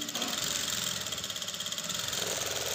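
A sewing machine stitching a lining blouse, running in a continuous fast mechanical whir with a rapid rhythmic needle pulse, close and steady throughout without talk.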